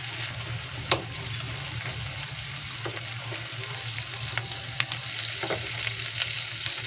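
Shrimp fry in garlic butter in a pan with a constant close sizzle, while a utensil stirs and scrapes through them with a few sharp clicks and knocks scattered on top.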